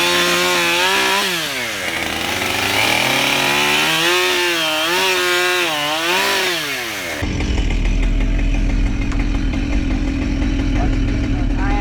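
A chainsaw with a very loose chain cuts firewood, its engine revving up and down for several seconds before dropping into a rough, steady idle-like drone, loud and close throughout.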